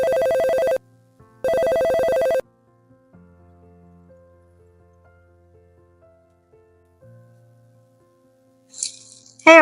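A telephone rings loudly in two electronic bursts, then falls quiet apart from faint low hum and soft rustling, with a brief sharp noise near the end.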